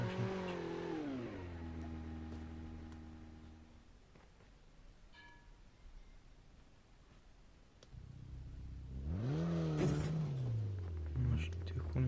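Car engine revving in Call of Duty, rising and falling in pitch at the start and again near the end, with a quieter stretch of game noise between and faint talk.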